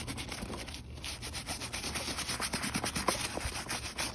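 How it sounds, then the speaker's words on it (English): A soapy canvas Veto Pro Pac tool bag is scrubbed over an Eagles logo with a brush, giving a soft, continuous rubbing swish that runs steadily and fairly quietly throughout. "I'm just gonna get on the Eagles logo and just kind of give it a little scrub."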